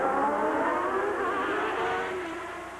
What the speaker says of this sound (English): you couldn't have heard the band over the searing whine of the Formula One cars